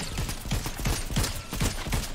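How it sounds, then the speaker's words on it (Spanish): Video game gunfire crackles in a rapid series of sharp shots, roughly a dozen bursts in quick irregular rhythm, loud and close, with no talk over it. "¿A quién le dispara, Ger?"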